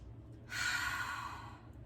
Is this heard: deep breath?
yes